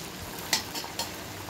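Luchi frying in hot oil, a steady close sizzle broken by a few brief bubbling bursts, with no one talking.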